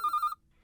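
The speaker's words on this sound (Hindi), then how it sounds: "लीजिए नट्टू काका, आपको याद करने वाले का फोन आ गया।" A telephone rings for an incoming call, a short burst of a bright warbling electronic tone that cuts off abruptly, followed by near silence and a faint low murmur.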